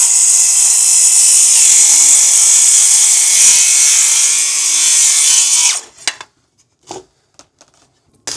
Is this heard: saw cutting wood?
yes